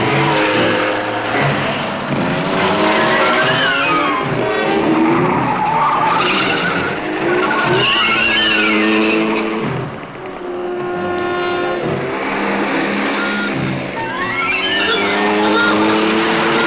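Fast driving with skidding, screeching tires in a 1966 horror film, a loud continuous roar of wheels and engine with shifting squeals running the whole time and no voices.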